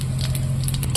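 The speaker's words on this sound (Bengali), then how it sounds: "ঘুগনিটা রান্নার জন্য কড়াইতে আমি তেল দিয়ে দিলাম, দেবো সাদা জিরা," White cumin seeds and bay leaves crackle and sizzle in hot oil in a wok as ghugni is started, with a brief, close, steady hiss under a low hum.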